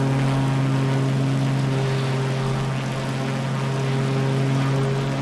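Aircraft engine held at full throttle in a flight simulator game: a loud, steady droning hum with a strong low tonal whine stays constant the whole time, with no breaks and no speech.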